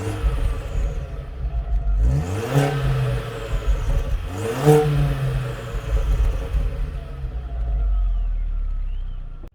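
A 2004 Audi B6 A4 1.8T Quattro with a test pipe and stock exhaust idles with a raspy rumble, then revs up sharply twice, each rev climbing and falling back quickly, loud and close.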